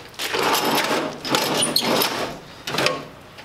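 A metal drawer on a tool cabinet is slid open, with rumbling, rattling scrapes in a few close, loud pulls of about a second each and no talk.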